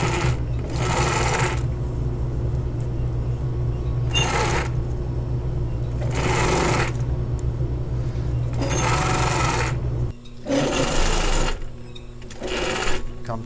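A sewing machine stitches fabric wrapped around welt cord, running in loud bursts of rapid needle chatter separated by lower motor hum and brief pauses, continuous through the clip with no speech.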